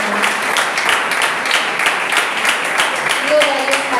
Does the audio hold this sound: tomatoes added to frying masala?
no